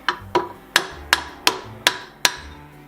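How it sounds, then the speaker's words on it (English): A copper hammer strikes a minibike flywheel seven times to knock it loose, each close metallic blow ringing briefly in a steady, evenly spaced rhythm. "To use a copper hammer, try and see if it will come off now."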